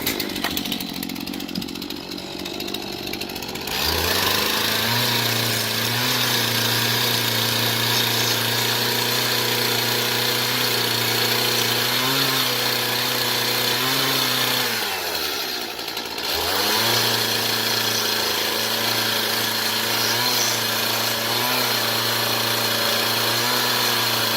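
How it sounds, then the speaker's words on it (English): A chainsaw cuts a tongue out of a round log for a butt-and-pass corner, the engine revving loud and close, holding a steady high whine through the cut, dropping briefly near the middle, then bogging back into the wood. "take the chainsaw"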